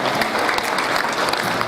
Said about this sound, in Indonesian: Tepuk tangan untuk Gorontalo.